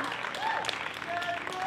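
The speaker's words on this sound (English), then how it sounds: "I want to give you guys both a big round of applause" A crowd at an outdoor Juneteenth celebration in Keene, NH applauds performers with a brief, steady wash of clapping. Some voices and whoops mix in.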